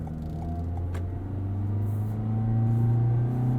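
Inside a 2022 Toyota Corolla Cross XLE AWD on the move, a steady low road rumble and wind noise hold a constant drone that swells slightly toward the end, with no voices.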